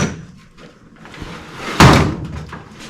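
A metal Craftsman toolbox drawer pulled open with a single loud clunk and scrape near the middle, surrounded by quieter rattling and handling noise.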